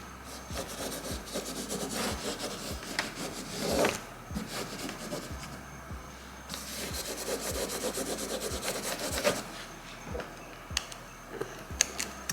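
A hand rubbing a carbon fiber Hellcat emblem sticker down onto a car, a series of close scratchy strokes repeating in an uneven rhythm, each ending in a soft tap or thump.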